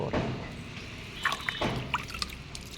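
A potted strawberry plant being washed with water, gentle splashing and trickling with a few drips and small sloshes, close and quiet, no voices.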